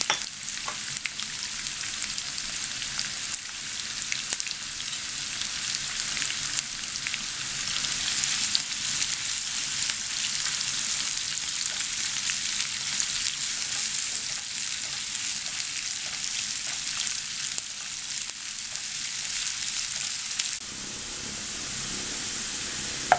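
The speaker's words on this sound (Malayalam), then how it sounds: "നമ്മൾ ബിരിയാണിയുടെ മുകളിലൊക്കെ ഇടാൻ വേണ്ടിയിട്ട് സവാള വറുക്കത്തില്ലേ, അതുപോലെ നല്ല ബ്രൗൺ കളറായിട്ട് വേണം വറുക്കാനായിട്ട്." Sliced onions fry in plenty of hot oil until brown for a restaurant-style chicken karahi. The loud, continuous sizzle runs unbroken and close up throughout with no talking.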